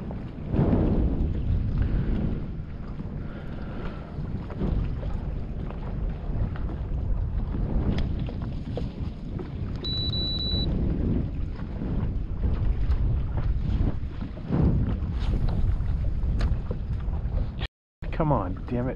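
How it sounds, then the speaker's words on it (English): Strong crosswind buffeting the microphone on a fishing boat out on open water, a steady loud roar of wind rumble running throughout, with a brief dropout near the end. "boy, it's hard with the crosswind to get it right"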